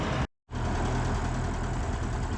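A Ferguson tractor engine idles while warming up, a steady close low-mid rumble that drops out briefly at the start, then resumes evenly.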